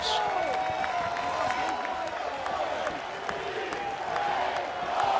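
A baseball crowd at a 2019 NCAA regional game cheers and applauds, a steady, fairly distant roar of voices and clapping with scattered claps on top, continuing throughout.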